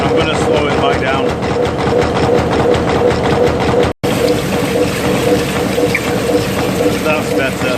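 A machine drills a 215 mm hole through an 18-inch aluminium block at a reduced speed, giving a steady, loud churning whir with rhythmic cutting pulses and a brief dropout midway.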